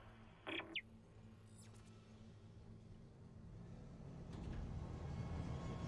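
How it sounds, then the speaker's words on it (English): A tram pulls into a station in the Dead Space (2023) video game, a low mechanical rumble swelling in the last seconds after a couple of brief high electronic chirps, with no talk. "Calling tram."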